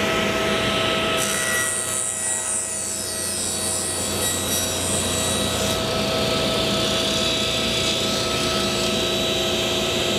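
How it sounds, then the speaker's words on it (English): A saw trims a plywood board in a steady, loud rasping grind lasting the full ten seconds, with a high whining edge that rises partway through and no talking. "Okay, so I'm going to trim this other board up."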